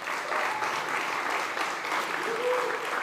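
Applause at a food summit during SXSW, a soft, even patter of clapping from the audience, fairly distant and continuous throughout.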